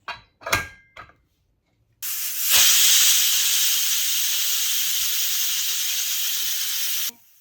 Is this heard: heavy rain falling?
no